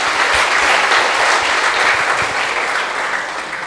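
A studio audience at a regional TV talk show about a youth relay event applauds steadily, a dense loud wash of clapping that holds for several seconds and eases slightly at the end.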